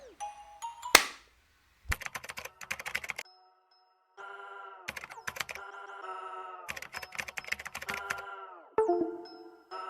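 Bursts of rapid, crisp keyboard shortcut key clicks, such as Control plus Shift plus arrow down, sound close by, separated by short pauses and mixed with bright electronic tones.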